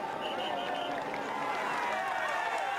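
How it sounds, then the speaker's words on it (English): Roadside fans cheering during the Tour de France climb of Mont Ventoux in 2013: a dense, steady roar of crowd noise with shouting and possible clapping, close and loud throughout, with no clear speech. "And just listen to the fans."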